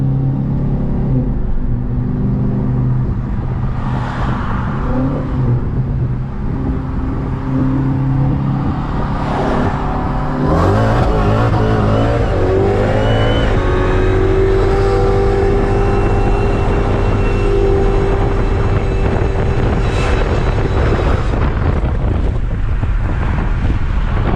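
Dodge Hellcat doing a big burnout, an engine roar that climbs and surges in pitch over heavy wind buffeting, building to a loud, sustained rising howl midway and staying intense to the end.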